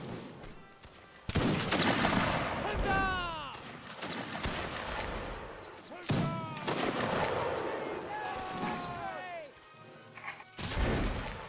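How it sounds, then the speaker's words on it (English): Line infantry musket volleys in a multiplayer line-battle video game: several sharp crackling volleys burst out, each trailing into a rolling echo, with players talking between and over the shots. "Right face, and reload and present and fire at will."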